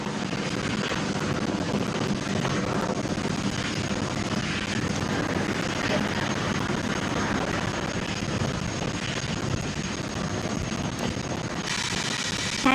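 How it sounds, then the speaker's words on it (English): A SpaceX rocket lifts off on the CRS-31 cargo resupply mission to the International Space Station, filling the air with a dense, steady, broadband roar that holds at constant strength throughout. "Vehicles pitching downrange. And we have liftoff."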